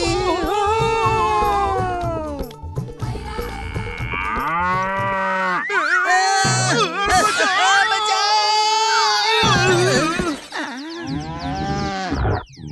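Cartoon buffalo lowing in a comic farm scene, long wavering moos and bellows repeating loudly across the clip with brief sharp effects between them, mixed with animated voices.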